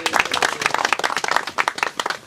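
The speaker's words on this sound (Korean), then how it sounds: "박수 한번 칠까요?" Audience members clap together at an outdoor squid fishing contest in Auckland, a dense, lively burst of handclaps sustained for a couple of seconds.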